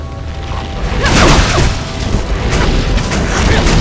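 Ice bolts cast as a spell in Torchlight II whoosh out in a loud rushing burst with crackling impacts, the surge swelling, dipping, and rising again over a few seconds.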